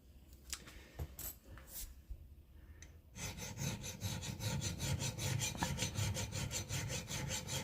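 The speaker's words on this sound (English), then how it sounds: "It's actually a raker file, and because it's not too coarse, it actually puts a beautiful edge." A raker file rasps steadily along an axe edge, honing a fine micro bevel; dense, rhythmic back-and-forth strokes start after a few scattered scrapes and continue loudly, close up.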